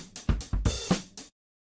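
Vintage acoustic drum loop played back from Reason's Dr. Octorex slice player: a short bar of punchy kick and snare hits with bright cymbal wash, about five distinct strikes, then an abrupt cutoff into silence.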